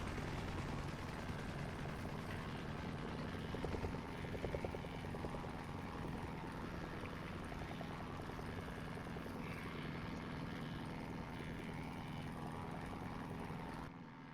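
A video-game helicopter's rotor and engine drone steadily and evenly throughout, faint and unbroken, with no voices.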